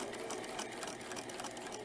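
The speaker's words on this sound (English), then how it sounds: "now I'm going to turn the fabric around to go backwards to lock the stitching in" A sewing machine backstitching through thick fabric on a baby dirndl, its needle running in a steady fast chatter, close and fairly quiet, with no voices.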